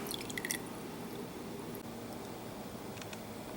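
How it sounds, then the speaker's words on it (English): Cooled beer wort for a Canadian blonde ale goes into a primary fermenter, a soft, steady liquid wash with a few brief splashy drips at the start, fairly quiet and without speech. "So I've poured the cooled wort into the primary fermenter."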